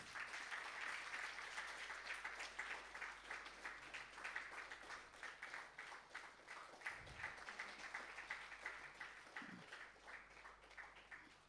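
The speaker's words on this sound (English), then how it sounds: "to felicitate Dr. V.S. Shankar Sriram amidst a big round of resonating and thumping applause" Sustained applause from an audience at a workshop award and felicitation ceremony, a dense, steady patter of many hands clapping that carries on for the whole stretch at moderate, somewhat distant level.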